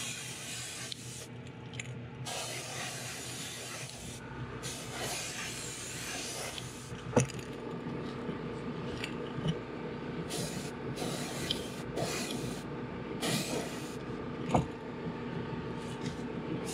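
An airbrush sprays paint onto a custom fishing lure, giving a close, soft hiss in repeated bursts of a few seconds each, separated by short pauses, with faint clicks.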